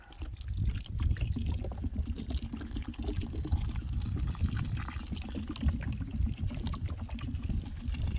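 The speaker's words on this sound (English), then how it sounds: "that means I could refill this bottle" Water runs steadily into a bottle being refilled outdoors, a continuous close splashing and gurgling flow with no one speaking.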